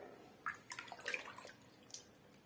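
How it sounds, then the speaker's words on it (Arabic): Water is poured in short, faint splashing bursts into a pot of almond harira soup, a gentle trickle close by with no talking. "نديرو تقريبا شي قطره ديال الماء"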